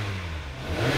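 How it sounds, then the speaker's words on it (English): A car engine revs up in a short rising surge, a close, loud mechanical drone with no talking over it; the car is being checked after a transmission repair. "I'm gonna rev up the engine."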